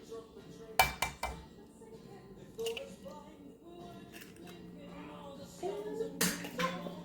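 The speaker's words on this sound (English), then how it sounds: "Yes, I just tossed that in the sink." A utensil clatters into a kitchen sink while muffin batter is being made: a few sharp metallic clinks and knocks, fairly close, with a quieter clink later over faint room noise.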